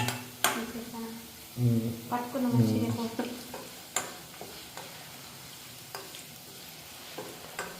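Oil sizzling in a pan as a tempering (talimpu) fries, crackling bursts alongside stirring scrapes and light ticking taps, close by with brief low speech.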